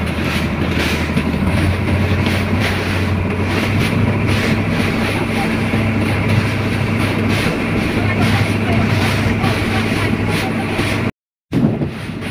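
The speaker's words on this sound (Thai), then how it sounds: "ลมค่อนข้างแรงแน่นอนนะครับผม" Strong wind blows outdoors near the water at Pak Nam, a loud, constant roaring rush buffeting the microphone throughout, broken by one brief dropout near the end.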